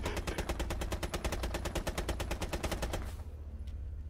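Rapid automatic gunfire in Rainbow Six Siege, a steady stream of loud, evenly spaced shots lasting about three seconds before cutting off abruptly, with no voices.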